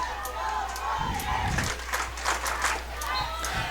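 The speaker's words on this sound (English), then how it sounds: "The crowd is into it for Winamac." Crowd at a boys high school soccer sectional cheering for Winamac against Caston, a continuous outdoor roar of voices with scattered shouts, heard under a commentator's talk.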